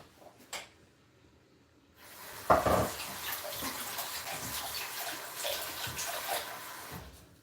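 Water runs steadily from a tap as something is rinsed and washed by hand in a sink, starting with a splash and continuing as a broad, fairly close rush of water, with no talk.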